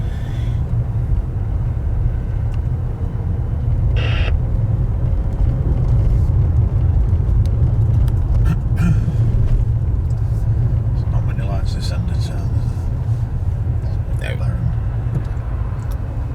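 A car driving through the streets of Grantham gives a steady low engine and road rumble from inside the cabin throughout, with someone talking over it.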